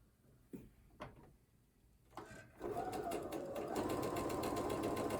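A sewing machine chain-pieces rows of fabric: a few soft clicks and handling knocks, then the motor starts into a steady, close, rapid mechanical stitching rhythm that runs on continuously.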